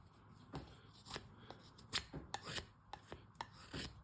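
A Swiss Army knife shaving a small wooden stick square in a boreal forest, making a steady series of quick, crisp scraping and whittling strokes, close and fairly faint, with no talking.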